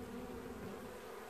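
Honey bees drone in a dense, continuous buzz at an open hive during a heat wave, close and steady with no voices.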